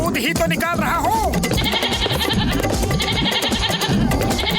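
Cartoon goat in a Motu Patlu episode bleats in short wavering cries near the start, then a dense, loud mix of music and sound effects continues over a voice.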